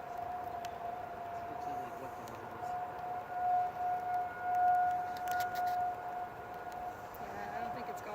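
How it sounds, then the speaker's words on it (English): Thunderbolt 1000T tornado siren in Grosse Pointe Woods, Michigan, sounding during a winter test, a steady distant wail that swells and fades slightly as it rotates, heard faintly outdoors with some nearby voices. "Well, the sirens are going off too."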